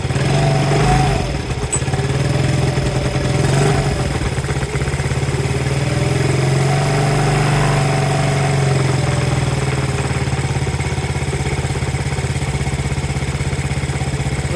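Small engine of a fire-damaged 1984 Honda ATC70 three-wheeler running on half choke, a steady close putter with mild revving fluctuations and clatter and no talking.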